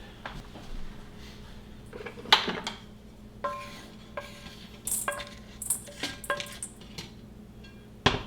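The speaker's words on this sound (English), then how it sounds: "we're just going to get them out of our hot pan here, put them into a little smaller container" Dandelion pieces scraped out of a hot pan into a smaller container: a run of sharp metallic scrapes and clinks of utensil against pan, irregular and close, with no talking.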